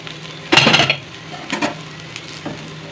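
Jackfruit pieces fry in a kadai, a soft steady sizzle broken by a few clattering bursts of a spoon stirring and scraping the pan, close up, with no voices.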